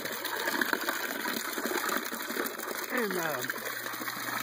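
A small stream of water overflows and trickles from an ABS plastic siphon, a steady close gurgle and splash under a low mechanical hum, with someone speaking briefly.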